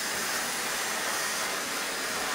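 Hair dryer blowing on hair, a steady loud broadband whoosh with no variation across the short stretch, heard alone without talk.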